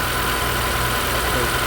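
A 2015 Honda CR-V engine idles steadily after a timing chain job, a constant close hum with no breaks from start to end.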